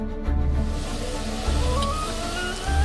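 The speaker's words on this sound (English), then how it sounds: "That is the sound of this actuator starting up" A low mechanical rumble with a steady hum, rising in surges every second or so, as a large actuator motor on the Guizhou radio telescope dish in China starts up and runs slowly.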